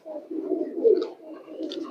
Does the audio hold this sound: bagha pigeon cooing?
yes